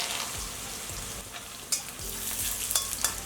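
Small garlic cloves and peanuts fry in a pan for spicy street-style churumuri, a soft steady sizzle with occasional scraping stirs and light clicks, fairly quiet and without talk.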